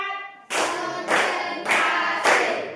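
A classroom group claps together four times in a steady, even rhythm, each burst crisp and loud at close range with a short decay between them.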